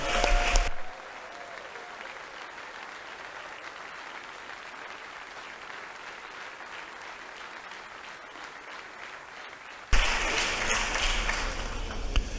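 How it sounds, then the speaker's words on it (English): Sustained applause fills a state legislative chamber during a session day, a broad, even patter of many hands that carries on at moderate level for most of the stretch, bracketed at both ends by a louder burst of room sound. "Let's give a wonderful round of applause to that First Lady."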